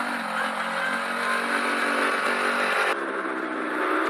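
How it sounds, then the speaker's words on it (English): A motorbike engine roars close by during a Halloween night group ride in Santa Monica, revving loudly and steadily before shifting pitch as it passes. "There's a motorbike behind me."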